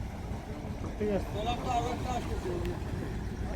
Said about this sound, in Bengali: এই ট্রলার তো এখন আসতেই থাকবে।